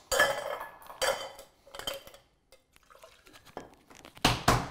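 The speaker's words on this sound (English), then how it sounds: "Let's add our ice." Ice cubes clatter into a metal cocktail shaker tin in a few quick rattling scoops with short pauses between, close and fairly quiet, without any talking.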